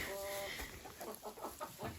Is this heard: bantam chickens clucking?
yes